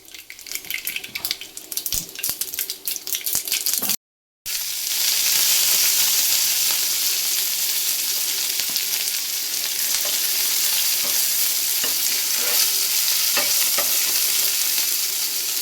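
Two spoons of ghee for a garnish tempering sizzle loudly and continuously in a pan, with light stirring clicks and a brief cut partway through; nobody speaks.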